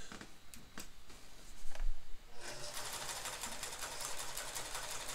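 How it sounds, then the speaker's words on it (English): A vintage Kenmore sewing machine set to a long straight stitch runs steadily, its needle mechanism producing a fast, even whir with light ticking, close and clear, preceded by a few soft clicks and taps. "I'll zoom in and let you see how it sews. And this is, of course, I have it currently set up for a long straight stitch."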